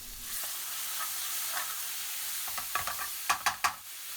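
Curry sizzling and frying in a pan after hot base gravy is added for a British Indian restaurant style dopiaza, a steady close hiss with a few sharp stirring clatters near the end.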